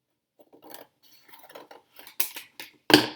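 Scissors snip through a cardboard tunnel to take a piece off, a series of short crisp cuts building to a louder final snip, close and alone.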